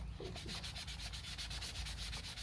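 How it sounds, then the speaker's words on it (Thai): An old plant pot is scrubbed during washing, giving a continuous rhythmic rubbing and scraping with quick regular strokes, close and fairly loud, with no talk. "ได้ยินเสียงขัดไหมคะ"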